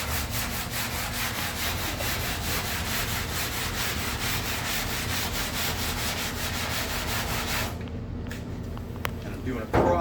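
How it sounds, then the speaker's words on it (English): A car door is block sanded with 150 grit paper in a cross-hatch pattern, giving steady, rhythmic rasping strokes up close that continue for several seconds before stopping near the end. "Doing a cross-hatch sanding on that so that we get a good even sand."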